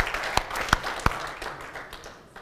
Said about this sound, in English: Would you give them a round of applause and tell them you're glad they're here?